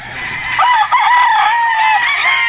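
A Gilmore battle stag rooster at a gamefowl farm gives one loud, close crow that rises and holds steady before trailing off.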